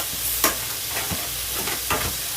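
Green beans with pork hocks fry in a pan, giving a steady soft sizzle with occasional stirring scrapes and clinks over the hiss.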